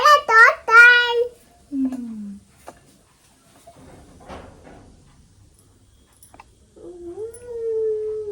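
A household dog lets out a few drawn-out howls in short, separate bursts, with quiet gaps between them. A voice is heard nearby.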